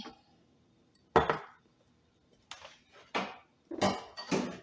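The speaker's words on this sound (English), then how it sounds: "Stir this around a little bit." A utensil clanks and scrapes in a pan of chicken, rice and broccoli being stirred for a casserole, five separate close bursts with quiet gaps between them.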